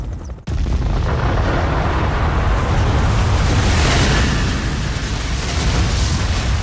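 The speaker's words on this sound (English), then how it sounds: "A gigantic explosion." A gigantic explosion, the Tunguska event in Siberia in 1908, erupts after a brief silence into a massive sustained roar that fills the whole stretch, loud and unbroken.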